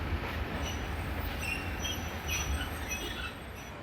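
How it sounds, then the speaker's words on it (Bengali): Train noise at Sylhet railway station in Bangladesh, a steady low rumble of rail cars with faint wheel squeal and hiss, continuous and moderately loud throughout with no talking. "আমরা সকাল ৭টায় সিলেট রেলওয়ে স্টেশনে পৌঁছে যাই"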